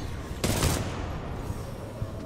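Sustained automatic gunfire from the video game Titanfall 2, a dense loud burst of rapid shots with a sharper blast near the start and scattered single shots after it.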